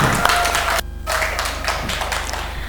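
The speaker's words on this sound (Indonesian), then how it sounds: "berikan tepuk tangan untuk kita semua" Classroom applause from students after a lesson, a steady run of clapping and light taps with a brief break near the start, continuing at moderate level.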